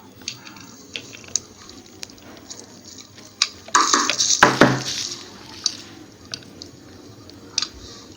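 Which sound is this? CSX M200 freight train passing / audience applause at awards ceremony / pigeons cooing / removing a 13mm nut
removing a 13mm nut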